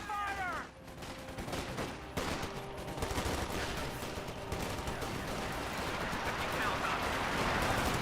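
Dense gunfire in the World War II strategy game Company of Heroes 2, with continuous crackling rifle and machine-gun bursts layered over a thick battle din throughout.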